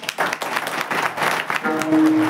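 An audience at a devotional kirtan gathering claps, a dense continuous patter of many hands, fairly loud and close, with faint voices mixed in.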